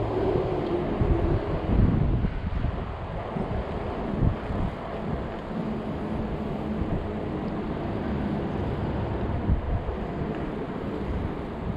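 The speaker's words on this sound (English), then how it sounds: "time to deal with some wind again" Gusty wind buffets the microphone on a 48V Ecotric 20-inch fat-tire e-bike riding at about 20 mph on a warm 83-degree day, a steady rough roar swelling and easing with each gust.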